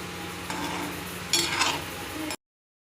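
Gulab jamun frying in oil over a low flame, a steady close sizzle with a brief louder bubbling burst midway, no voices.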